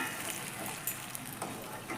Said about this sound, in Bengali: গরম জল করে রেখেছিলাম, জলটা দেব।